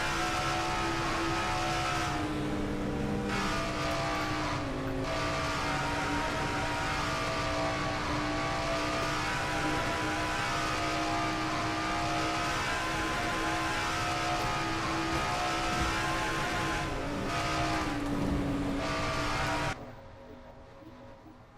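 Race cars circle Atlanta at over 185 mph in a sim racing series, a continuous loud engine whine with shifting pitch as cars pass, dropping to a quieter tail near the end.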